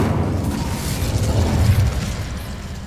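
Incendio fire spell cast in Hogwarts Legacy, a dense roaring whoosh of flame with a low rumbling boom that holds steady for a few seconds, loud and close.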